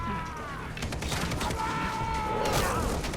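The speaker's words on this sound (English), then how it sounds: "this is the best explosive arrow ever" Explosive arrow detonating in Far Cry 3, a loud burst followed by crackling, rumbling blast debris that keeps roaring for a few seconds, with faint ringing tones running through it.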